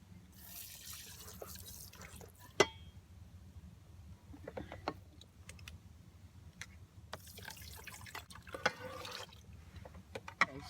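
Water drips and trickles while dishes are washed inside a van. The irregular drips and splashes are close and fairly quiet, with a few sharp clinks, and no one speaks.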